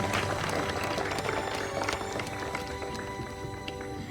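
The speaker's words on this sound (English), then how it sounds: "Please give a warm round of applause for Amaya Anoop of Grade 2." At a school Republic Day celebration, an audience claps for a young student, a loud, continuous crowd applause that fills the hall, with music or other tones faintly underneath.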